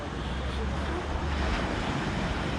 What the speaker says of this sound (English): I've been watching these waves roll right along the edge of this wall.